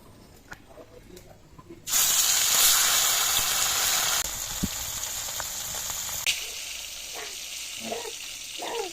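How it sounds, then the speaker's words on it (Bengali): Fish frying in hot mustard oil, starting with a sudden loud burst of sizzling as the fish hits the pan, then settling into a softer steady crackle with occasional pops and brief talk near the end. "এরকম লাল লাল করে মাছ ভেজে নিতে হবে"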